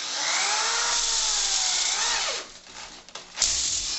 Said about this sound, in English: you can drill right through that sheet metal